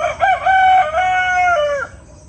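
A single loud rooster crow, close by, rising then holding a long drawn-out note before dropping off, with no talking.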